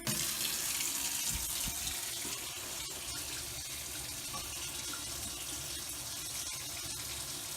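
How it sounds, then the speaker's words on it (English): Hot water runs steadily from a tap inside an RV trailer, a continuous close hiss and splash that holds evenly throughout with no talking. "Let me try the hot water"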